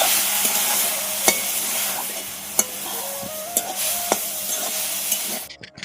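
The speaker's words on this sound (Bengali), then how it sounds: "এভাবে একটু একটু করে নাড়াচাড়া করতে থাকবো, গুড়টা গলে যাবে আর খুব সুন্দরভাবে নারকেলের সাথে মিশে যাবে।" Grated coconut stirred with melting jaggery in a pan for a coconut roll pitha: a steady close sizzle runs throughout, punctuated every second or so by sharp spatula taps and scrapes against the pan.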